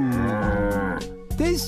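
A cow on a farm gives a long, low, drawn-out moo, close and loud, followed by a shorter rising call at the end, with no talking alongside.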